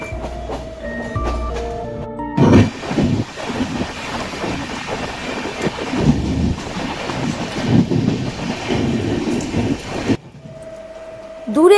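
Aboard the 11448 Saktipunj Express from Howrah to Barkakana in Jharkhand, passing trains roar by in a sustained, rumbling rush of wheels and cars, framed by brief tonal sounds at the start and end.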